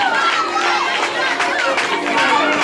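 Crowd of schoolchildren at a school awards ceremony cheering and shouting, a busy lively din of many young voices mixed with chatter and an adult voice over it.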